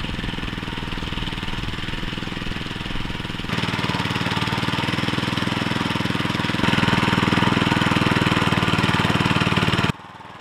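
A motor hoe is used like a brush cutter to clear grass in a dry-farmed field. A close, loud, steady engine drone runs continuously, rising slightly in intensity, then stops abruptly at the end.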